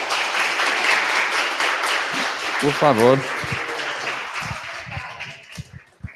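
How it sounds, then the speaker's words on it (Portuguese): Applause from an online or conference audience closing a 2021 geography discussion session, steady broadband clapping throughout with someone speaking briefly over it near the middle. "Aplausos para vocês, gente."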